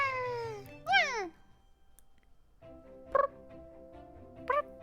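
A person's voice imitates a cat, giving a drawn-out rising and falling meow followed by two shorter meow-like calls. It sounds close and fairly quiet against a near-silent background.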